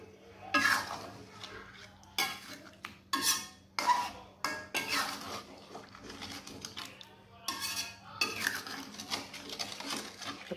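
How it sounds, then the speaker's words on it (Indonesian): Spice paste thinned with a little boiled water is stirred in a pan for a fried-egg stir-fry, a spoon scraping and clinking against the metal in irregular bursts, close and moderately loud, with a low steady hum beneath. "Kita aduk dulu bumbunya supaya merata."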